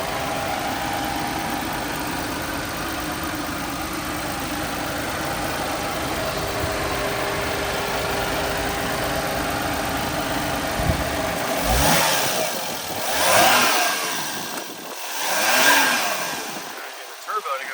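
A 1998 Suzuki Alto Works RS/Z with a turbo idles steadily, then revs up twice in strong swelling bursts with a rising whoosh, close by, and faint talk is heard at times.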